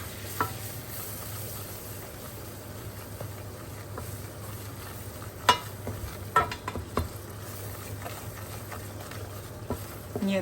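Butter and flour stirred together in a pot, a faint soft scraping and light sizzle under a steady low background hum, with a few sharper clinks of the spoon against the pot near the middle.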